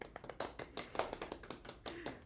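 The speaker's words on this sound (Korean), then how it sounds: "강의 잘 진행해주신 윤태영 선생님께 다시 한번 박수 부탁드리고요." Scattered hand claps from a small group at an online teacher training session, quiet and somewhat distant, irregular and thin rather than a full ovation.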